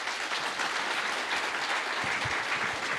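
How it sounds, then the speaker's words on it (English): An audience claps steadily at the launch of the EACC 2023-2028 Strategic Plan, a sustained, moderately distant round of applause that fills the whole stretch with no voices over it. "Another round of applause for His Excellency Dr. Musalia Mudavadi."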